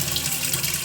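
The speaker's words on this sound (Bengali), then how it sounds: "ভাজা হয়ে গেলে একটু জল ঢেলে দিলাম।" A little water poured into a hot kadai of fried spices while cooking egg curry, giving a brief bright splashing hiss that runs steadily without pause.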